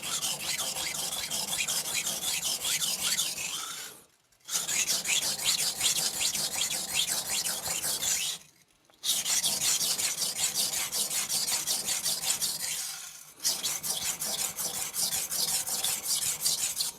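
An Aogami 2 steel bunka knife, a Hatsukokoro Kurogane, is ground on a coarse Shapton Glass 220 stone in a close, gritty rasp of repeated rapid strokes. Three short pauses break the sets.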